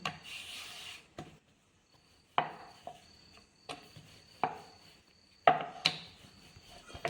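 Oiled tomato paratha dough is rolled out into a square on a board, giving a series of soft, close knocks and rubbing scrapes at an uneven rhythm in a quiet kitchen with no talking.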